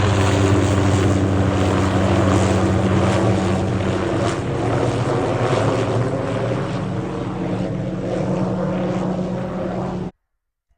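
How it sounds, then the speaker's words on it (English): A helicopter flies overhead while pulling a cable onto spools along a power line on a farm, its rotor and engine a loud, steady drone that holds for about ten seconds before cutting off abruptly. "a helicopter started flying over, and it was going around each pole, and it was pulling a man on a cord"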